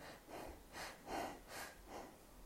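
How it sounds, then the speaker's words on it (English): Quick, shallow breaths repeat in a steady rhythm, about five soft in-and-out puffs, close and quiet with no talking. "I'm taking quite short, shallow breaths, so all the breathing is up here"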